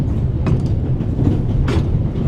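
Steady low rumble of a train rolling along in The Raven: Legacy of a Master Thief, continuous and fairly loud, with faint rattling clicks of the carriages on the rails.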